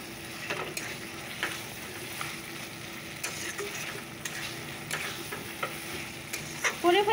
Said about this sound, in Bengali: তো চিকেনটা বসিয়ে দিলাম, ফটাফট রান্নাটা করে ফেলি।